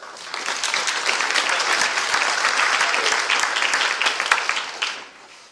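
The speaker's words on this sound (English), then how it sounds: "So let's give him a big round of applause." A big round of applause welcoming the Shapeways 3D manufacturing CEO to the stage at a talk in New York City, dense crowd clapping that swells and then tapers off toward the end.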